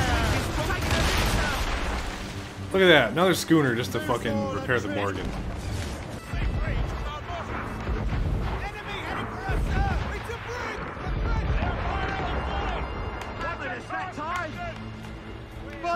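Naval cannon fire and ship battle noise in Assassin's Creed Rogue near a fort, with booming blasts and crashes, the loudest cluster near the start, mixed under game music and someone talking throughout.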